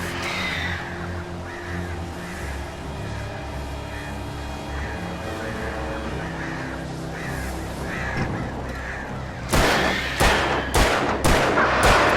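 Attacking crows in the game Alan Wake Remastered, harsh cawing over a droning background, then a burst of loud sharp shots near the end.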